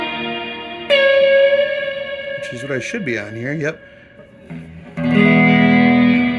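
Guitar played through a plate reverb effects pedal with adjustable pre-delay, sustained chords and notes ringing out with a wet, lingering tail, broken up by someone talking over the instrument mid-clip.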